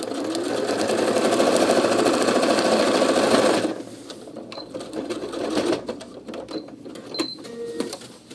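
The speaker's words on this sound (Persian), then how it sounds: "پایه رو بلند میکنم، پارچه رو میچرخونم و دوخت میزنم" Electric sewing machine stitching a fabric cooking pot bag: a fast, continuous whirring run of stitches, then short stop-start bursts as the presser foot is lifted and the cloth turned, fairly close.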